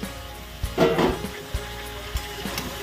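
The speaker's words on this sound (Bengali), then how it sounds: "ঝিঙাগুলোকেও হালকা করে ভেজে নেবো" Ridge gourd frying in a pan gives a soft sizzle, broken by a short burst of clattering as the pieces are stirred and by a few light knocks.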